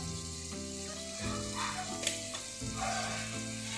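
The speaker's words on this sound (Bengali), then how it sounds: "ভেজিটেবলস গুলো দিয়ে 15 সেকেন্ড হাই ফ্লেমে কিন্তু রান্না করতে হবে" Red and yellow bell peppers with capsicum frying in sauce on high flame, a continuous bright sizzle with stirring scrapes over a low hum of background music.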